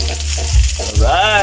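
Onions sizzle steadily in a hot pan, a loud continuous frying hiss with a couple of low stirring thumps, close up and with no talking.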